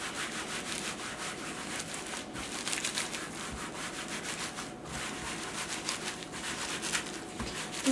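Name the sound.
hands rubbing wet wool felt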